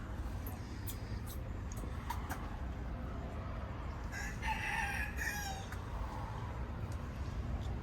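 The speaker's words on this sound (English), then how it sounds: "Comes with a rooster." A rooster crows somewhere off in the distance, one drawn-out call standing out briefly over a steady low outdoor rumble.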